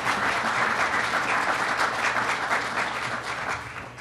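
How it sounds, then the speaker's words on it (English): A large crowd at a Governor Cuomo funding announcement applauds loudly and steadily, a dense wash of clapping that tapers slightly toward the end. "so give him a very big round of applause."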